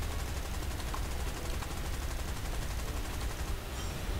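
Steady, dense gunfire with a continuous rattling roar during a War Thunder bombing run, loud and unbroken throughout.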